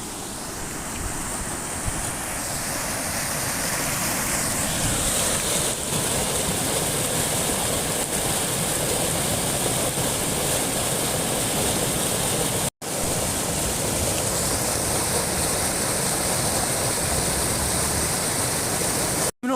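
The Porter Brook rushing in flood with high water, a loud, dense, continuous roar of churning water close by that stays steady throughout and cuts out briefly near the end.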